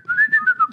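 A person whistles a wavering melodic tune, close and clear, in a few sustained phrases with short breaths between them. The whistling is heard alone during an interview with a band at a music festival.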